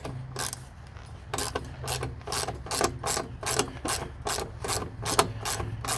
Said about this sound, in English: I can use my ratchet